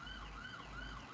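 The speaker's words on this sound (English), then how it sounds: "that's the fire department. I mean the ambulance." A passing ambulance siren wails in a smooth rising and falling tone, heard faintly at a distance over low road rumble.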